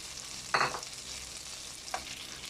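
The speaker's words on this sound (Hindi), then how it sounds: "अब हम इसको फ्राई करेंगे यहाँ तक कि इसकी खुशबू आने लगे" Chopped garlic frying in melted butter in a pan gives off a soft steady sizzle, broken by two short bursts of stirring or scraping, fairly quiet and heard alone.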